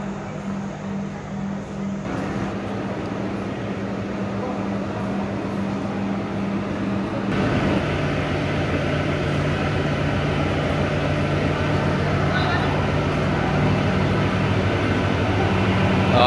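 Shimla–Kalka toy train standing at Shimla railway station, a continuous low engine hum and mechanical drone that grows louder partway through, holding steady near the listener with no speech.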